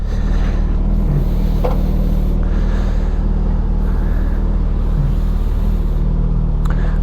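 A Suzuki GSX-S1000GT motorcycle engine runs with a steady, loud low drone and a constant rumble, joined by faint passing swells and wind rush, with no talking.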